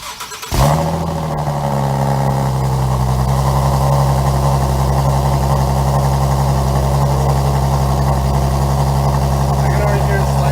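A Nissan 370Z idling with test pipes installed, starting up with a sharp burst and then settling into a steady, loud, deep rumble that holds evenly throughout.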